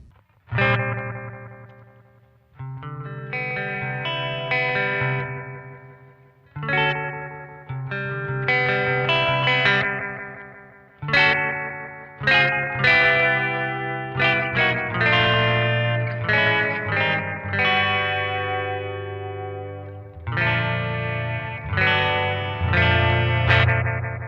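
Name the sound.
analog delay pedal, short mode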